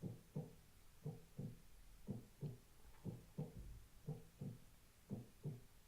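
Steady heartbeat effect in a short film's tense final scene: paired low thuds repeating about once per second, muffled and fairly quiet, with no other sound over them.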